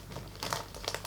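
A small plastic bag crinkles as it is handled, with quick, close crackles and irregular bursts of rustling over about a second, with no voices.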